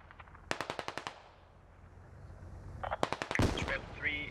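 Gunfire in the video game SquadOps: a rapid burst of about ten close, sharp shots, a short lull, then another cluster of loud shots, with a voice briefly mixed in near the end.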